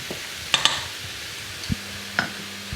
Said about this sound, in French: je vais préparer un roux, Oui. donc du beurre, qu'on va faire chauffer